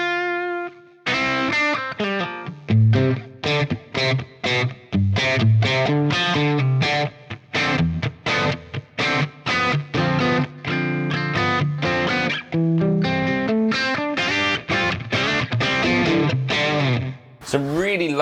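Electric guitar through an Axe Fx running the WRECKERS Trainwreck factory preset, played as a continuous run of picked notes and chords with a driven, slightly distorted tone, loud and alone for most of the passage.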